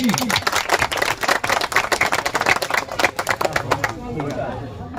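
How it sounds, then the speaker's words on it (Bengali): Applause from an audience at a cricket tournament award ceremony for a village welfare society, a dense patter of many hands clapping nearby for about four seconds before thinning out into the room's background murmur. "জোর করে হাততালি।"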